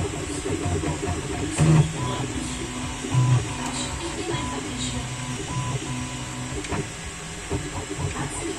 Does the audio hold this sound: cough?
no